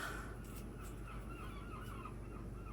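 Seagulls call in the distance, a few faint, repeated cries rising over a steady low background hum.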